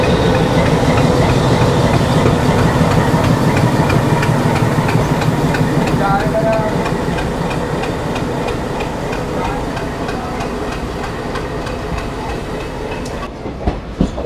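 A WDS diesel locomotive hauling the Shramjeevi Express hums with a deep, continuous engine drone, joined by rhythmic wheel clatter on the rails, loud and steady throughout.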